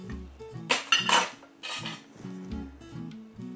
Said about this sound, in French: Je vais maintenant tailler mes litchis.